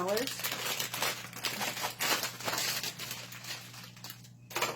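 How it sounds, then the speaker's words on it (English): Plastic wrapping on a supermarket bundle of six roses crinkles loudly and close up in repeated bursts, with brief quiet gaps between handlings. "This bundle of roses, I know that crinkle is loud, so just a minute."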